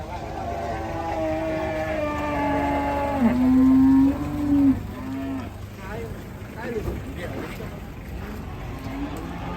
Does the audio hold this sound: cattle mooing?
yes